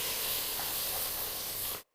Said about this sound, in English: Deglaze with half the wine.